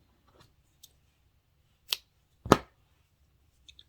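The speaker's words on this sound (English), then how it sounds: "So now I'm going to cut my yarn." Scissors cut yarn during knitting, with two quick, quiet snips about half a second apart in an otherwise silent room.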